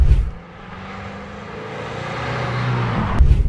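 A Kia Ceed GT-Line CRDi 136 hp mild-hybrid diesel driving in sport mode on Réunion, a light, steady engine hum that builds gradually over a few seconds, heard from inside without speech.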